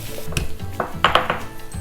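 Ginger and garlic pounded in a mortar and pestle for Erode-style chicken sukka, a few close, hard knocks and clinks over roughly two seconds, with no talking.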